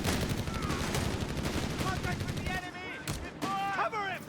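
Machine gun fire from an MG-34 squad in the video game Company of Heroes 3 rattles through a dense, continuous battle din, with other weapons and effects layered over it and an announcer's voice talking above the noise.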